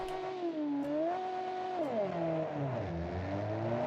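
A single 1960s supercar engine in a racing video game drones and revs, pitch rising and falling smoothly and steadily, sounding synthetic and continuous with no talk.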